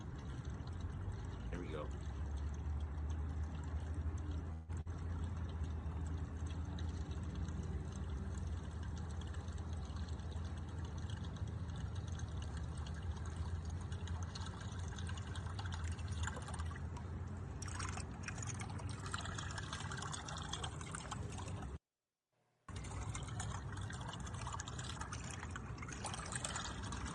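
An Iggy Baits lure's spinning blade knocks and rattles underwater, captured as a continuous muffled churning wash with faint tapping, broken by one brief dropout near the end.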